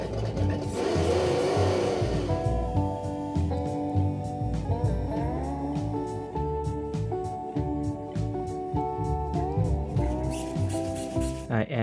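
A 1969 Camaro RC car fitted with a supercharged V8 engine revs loudly and close by, its pitch rising and falling continuously for about twelve seconds without a break and with no talking.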